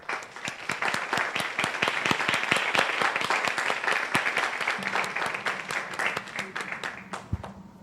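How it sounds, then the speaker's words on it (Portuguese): An audience at an academic talk on psychoanalysis and literature applauds, dense steady clapping from many hands for several seconds that thins out toward the end. "Let us aplaudir."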